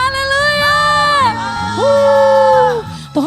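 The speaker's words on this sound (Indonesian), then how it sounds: "Sorakan haleluya." A church congregation at a Sunday worship service cheering, whooping and shouting together, loud and sustained with rising and falling voices, filling the room.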